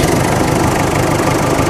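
A tractor's diesel engine idles loudly and steadily, with a dense, rumbling knock that fills the whole moment and no voices over it.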